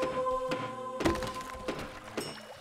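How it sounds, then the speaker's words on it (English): Digging into a wall in the heist game Monaco, heard as a few dull thunks and taps spaced about half a second apart over a faint steady game hum, with no voices. "Don't dig into that wall!"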